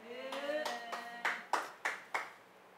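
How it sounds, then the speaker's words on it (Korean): Several loud, separate hand claps ring out at a steady pace, following a brief sustained tone, with no crowd applause. "끝나니까 좋아서 박수를 하는 건지."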